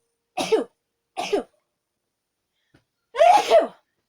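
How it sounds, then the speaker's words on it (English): A person sneezes, a quick double burst followed after a short pause by a louder, fuller sneeze, close up with silence between. "I'm gonna sneeze."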